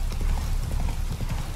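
Horse hooves clip-clop in Witcher 3: Wild Hunt as the rider travels, a quick regular trot of close, thudding hoofbeats heard alone for a moment.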